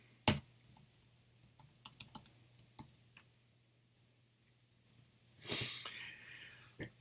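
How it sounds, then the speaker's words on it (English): Computer keyboard typing while writing game-state code for a class, bursts of close keystroke clicks clustered early and mid-clip, then a brief rush of noise near the end, with no talk. "And I'll just retype all this."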